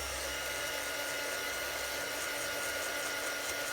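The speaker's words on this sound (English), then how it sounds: "just quickly heat emboss this to the side" A heat gun used for heat embossing a craft piece at the side of a desk, giving a steady, moderately faint blowing whir that runs unbroken throughout.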